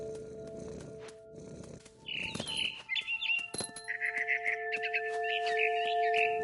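Birds chirp and tweet in the video game What Remains of Edith Finch, a cluster of bright repeated calls over faint ambient background, fairly close and growing busier toward the end.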